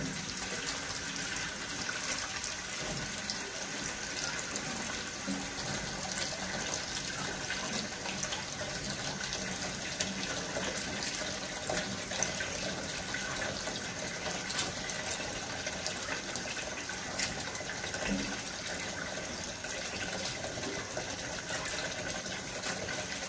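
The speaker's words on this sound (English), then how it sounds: "Okay, let me put the stopper in." Water runs steadily from a tap into a kitchen sink as it fills to rinse wild muscadine grapes, a constant close hiss and gush lasting throughout with no talking.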